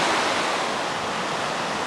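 The St. Louis River rushing down over slate bedrock, a steady broadband roar of flowing water, constant and fairly loud with no talk.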